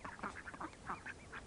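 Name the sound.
ducks quacking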